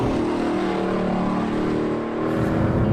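A 2018 Lexus LC 500 drives on the Gingerman Raceway track, its engine a loud, steady roar with rising and falling engine tones through a tight off-camber turn, close and continuous throughout.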